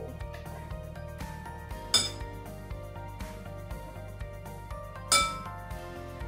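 Chopped strawberry pieces going into a bowl, two distinct clinking knocks against the dish a few seconds apart over a faint steady background hum, close and quiet, with no voices.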